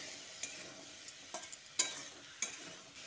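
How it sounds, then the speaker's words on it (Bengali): Onion and green chilli are stirred into spring onion stalks in a pan, giving a soft, faint sizzle with several light, scattered scrapes and clinks of a utensil and no voices. "এবার পেঁয়াজ আর কাঁচা লঙ্কাটা দিয়ে আবারও ভালো করে মিশিয়ে নিচ্ছি"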